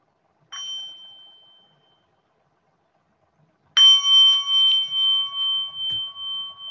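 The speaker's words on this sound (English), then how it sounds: "So I'll start with the sound of the bell." Meditation bell struck during an online mindfulness gathering, one soft ring fading out, then after a pause a clear resonant tone that pulses and slowly decays, heard alone in otherwise quiet surroundings.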